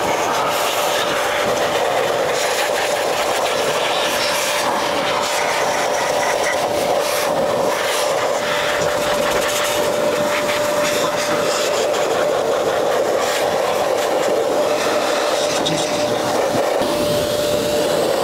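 An air blower drives water off a motorcycle after a wash, giving a loud, steady, close-up rush of air with a constant whining tone that runs without a break.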